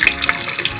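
Chopped ginger frying in hot oil in a pan while cooking chicken fried rice at home: a steady, close crackling sizzle with light stirring scrapes throughout, and no voices.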